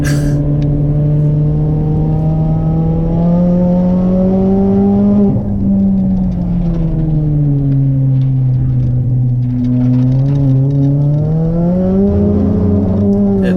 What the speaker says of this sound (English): that open diff just screaming